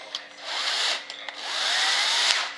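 A power drill fitted with a larger bit bores into material while building an RC jet model of an F-105 Thunderchief, a steady whirring drone that runs continuously with a brief dip partway through, close and fairly loud, with no talking.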